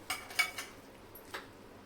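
Ghee stirred into saffron semolina sheera in a pan: a few faint, sharp clinks of a spoon against the pan spaced irregularly, with quiet scraping between them and no talk.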